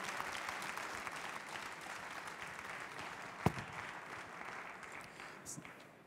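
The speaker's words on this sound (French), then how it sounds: "On peut encore vous applaudir bien fort." An audience at a cooking stage event applauds, giving soft sustained clapping that slowly fades, with one sharp louder knock partway through.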